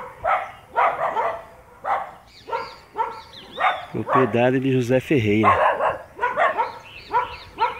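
Dogs bark repeatedly in short bursts, with a longer drawn-out howl in the middle; someone talks over parts of it.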